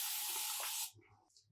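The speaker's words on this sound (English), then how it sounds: "you want to spray your scalp and hair real good first with the Luxury Loc salts dissolved in your spray bottle of water" A spray bottle filled with water and dissolved Luxury Loc salts hisses in one sustained burst onto scalp and locs, close and loud, then cuts off abruptly.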